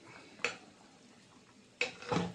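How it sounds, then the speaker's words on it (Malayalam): Quiet kitchen background with two clattering bursts of a utensil scraping and knocking against a pot of boiling stingray curry with roasted coconut, one early and one near the end. "നമുക്ക് ഇളക്കി കൊടുക്കാം."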